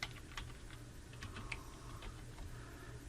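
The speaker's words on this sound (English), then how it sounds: "in this Search Apps field right here, I'm going to put my cursor in there and I'm going to type in Vivaldi." Quick, light clicking of keys typed on a computer keyboard in a quiet room, a short irregular run of close taps with no voices.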